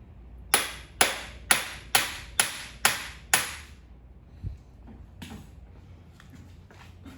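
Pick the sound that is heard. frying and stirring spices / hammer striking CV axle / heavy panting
hammer striking CV axle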